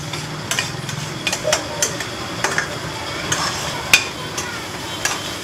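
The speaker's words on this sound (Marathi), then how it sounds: "2 मिनटं घाटल्यातच राहायचं याला, मस्तपैकी एकदम फ्राय होईल।" Egg bhurji fries in a pan as a spatula repeatedly scrapes and taps the metal in a loose rhythm over a light, close sizzle.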